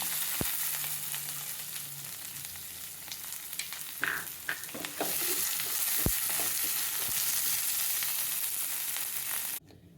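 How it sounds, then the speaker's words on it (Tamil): Curry leaves and a large onion frying in oil after cumin and fennel seeds for prawn masala, a steady moderate sizzle with sharp pops and utensil clicks, cutting off abruptly just before the end, no voices. "ஜீரகமும் சோம்பும் பொரிஞ்ச உடனே கருவேப்பிலை, ஒரு பெரிய வெங்காயம்"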